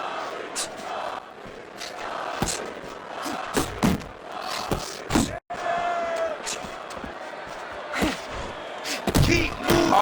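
Punches thud in a Fight Night Champion boxing match, Mayweather against Hearns, with sharp impacts scattered over crowd noise while a commentator talks throughout.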